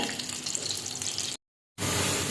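Onions sizzling in a pan on a home stove, a steady hissing fry for over a second, then a short gap before the same continuous sizzle returns.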